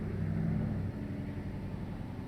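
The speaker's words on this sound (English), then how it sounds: "And I'm betting you could hear that truck go by." A truck passing by outside, a low steady engine rumble that stays fairly constant and moderately loud throughout, with a slightly heavier throb at the start before settling into an even drone.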